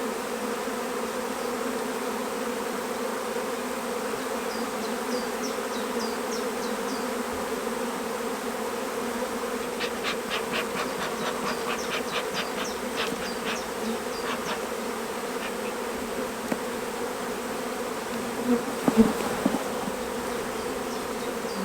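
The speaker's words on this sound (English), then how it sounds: "the bees are bringing in an awful lot of nectar at the moment" Steady, close hum of honeybees around open hive frames during a heavy nectar flow, with occasional brief clicks and a faint knock near the end.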